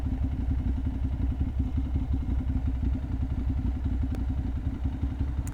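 A vehicle engine hums loudly and steadily while driving past the temple ruins of Angkor Wat in Cambodia, a close, continuous mid-pitched drone with faint rattling clatter throughout.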